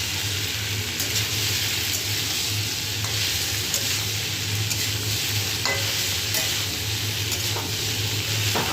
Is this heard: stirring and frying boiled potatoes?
yes